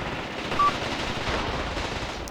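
Rapid gunfire from soldiers in a Graviteam Tactics battle, a dense continuous rattle of mixed shots that blur together at steady loudness for a couple of seconds.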